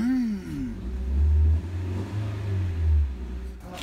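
A car engine revs and accelerates close by in two swelling surges of deep, rumbling growl, heard alone without talk.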